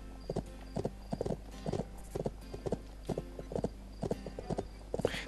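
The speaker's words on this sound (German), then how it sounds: "Wir reiten hier mal querfeldein." Horse hooves clip-clopping in a steady galloping rhythm while riding cross-country in the Bibi & Tina video game on Switch, clear and even, with game ambience beneath and no talk.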